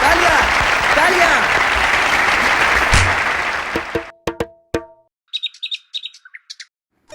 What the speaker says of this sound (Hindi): तालियां तालियां तालियां तालियां तालियां तालियां